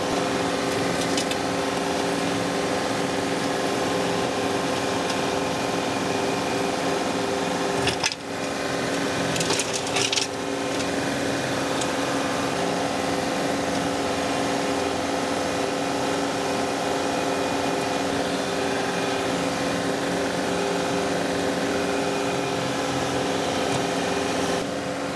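Boom flail mower cutting a pond bank, a steady loud mechanical whir with a constant hum and rattling that runs without a break, apart from a couple of brief knocks partway through.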